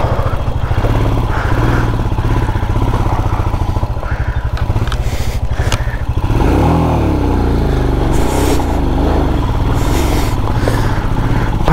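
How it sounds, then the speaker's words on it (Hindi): A motorcycle engine labours loudly and close up a steep mountain road at Sach Pass, a continuous throbbing drone that shifts pitch as it strains, with rattling clatter from the rough surface. "यार अभी बाइक ना पीछे खिसक गई थी।"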